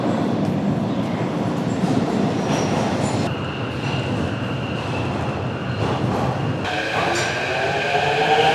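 Subway train moving through a deep metro station, a loud steady rumble of wheels and carriages with squealing metallic tones and clattering rising toward the end.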